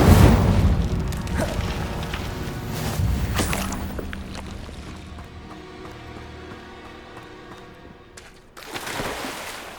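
In Hogwarts Legacy, the Incendio fire spell erupts with a loud whooshing burst and booming impact at the start, then decays into a rumbling fiery tail before a short final flare.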